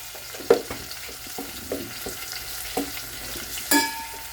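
Milkfish stuffing sizzles steadily in a hot pan as a utensil stirs it, with scattered scraping knocks and a sharp metallic clank near the end, close and fairly loud.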